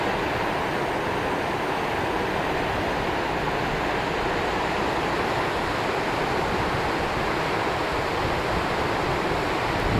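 Water rushes steadily over a dam along a popular Delaware hiking trail, a loud, continuous roar with no break and no voices.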